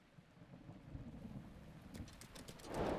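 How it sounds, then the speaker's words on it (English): Steady rainfall in a stormy game world, The Legend of Zelda: Breath of the Wild, during the Trial of Thunder, with a rumbling low roll of thunder building near the end; no one speaks. "Because, it's raining, and I can't use Revive Gale."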